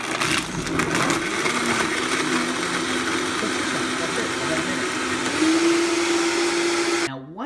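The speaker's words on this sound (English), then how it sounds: "For the Vitamix, you just turn it on." A Vitamix blender runs continuously on a green smoothie, a loud steady motor whir with a pitch that rises slightly near the end before cutting off abruptly.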